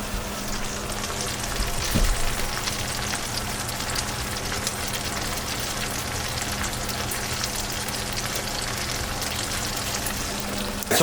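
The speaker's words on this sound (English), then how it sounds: "we chuck all these in there and we get them cooking and soaking up that buttery grease" Freshwater mussels sizzle and crackle in hot buttery grease, a dense, steady frying hiss that holds close and even throughout, with one brief knock near the start and no voices.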